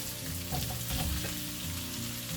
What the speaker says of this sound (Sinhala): ඉඟුරු සුදු ටික ටෙම්පරා වුණාට පස්සේ මේකට මම එකතු කරගන්නවා රටලු